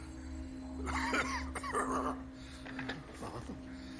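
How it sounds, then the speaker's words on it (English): A character in the video game Dead Rising coughs in a few rough bursts over a steady low game hum, with a voice murmuring through the fits. "You're coughing a little too much, bro."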